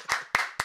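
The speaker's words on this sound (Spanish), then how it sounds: "Un aplauso para el papá de Yair." A few separate hand claps from an audience at a scholarship award ceremony for a singing foundation, three sharp close claps spaced apart in a brief burst.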